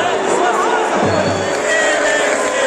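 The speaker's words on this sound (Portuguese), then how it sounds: "Torcida do Fluminense ainda incentivando" Fluminense supporters cheer and chant throughout a stadium during a Copa Sudamericana group match against Unión Santa Fe, a steady, dense roar of crowd voices with rising whoops, continuous and loud.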